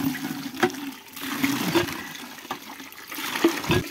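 Water being poured and loaded for washing, a sloshing, splashing flow with intermittent pours and knocks, fairly close and without speech.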